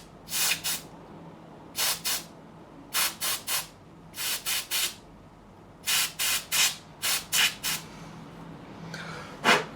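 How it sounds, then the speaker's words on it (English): Compressed air hisses in short paired and triple bursts into the nut slots of a Gibson ES-335 guitar during setup work, each spray crisp and close against a quiet background, with no talking. "Got some compressed air."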